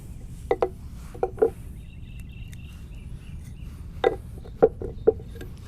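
Knife point scraping and picking at wood to carve a small divot for a bow drill spindle, a few brief close clicks in two clusters over a quiet outdoor background with faint insect hum.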